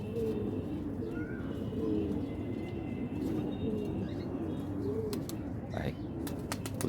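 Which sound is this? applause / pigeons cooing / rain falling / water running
pigeons cooing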